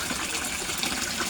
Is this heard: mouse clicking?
no